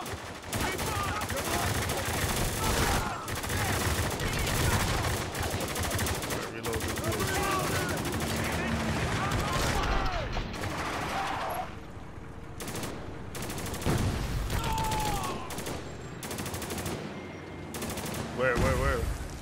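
Dense bursts of automatic gunfire and scattered shots crackle almost nonstop during a firefight in the video game Spec Ops: The Line, with shouted voices breaking through the loud, steady barrage.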